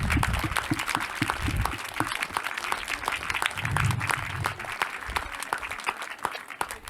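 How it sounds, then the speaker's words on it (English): A crowd at a cricket club awards evening claps for coaches, umpires and helpers, producing steady, fairly loud applause with distinct individual claps audible throughout and a brief low murmur in the middle. "ask you all for a big clap for all the coaches, helpers, scorers, umpires and managers of your teams."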